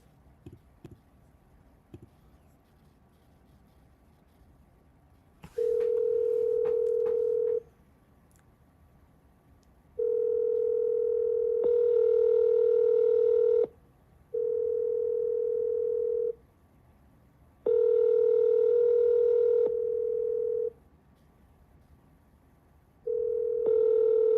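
Telephone call tones: a steady dial-type tone, then a series of long beeps with short gaps, clear and alone with no talking, like a voicemail line waiting to record.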